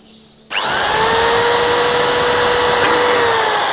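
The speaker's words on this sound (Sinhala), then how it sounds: "ඊළඟට පහළිනුත් අපි බෝතලේ යටිපැත්තෙනුත් මේ වගේම සිදුරක් විද ගන්න" A power drill starts abruptly and runs at a steady, loud high whine while boring a hole through the bottom of a plastic bottle, continuous to the end.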